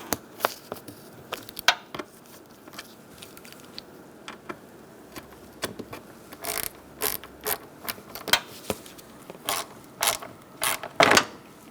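A ratchet tightening self-threading bolts on the A/C condenser of a 2012-2017 Hyundai Accent, close-up clicking in repeated short bursts with brief pauses between, no talking.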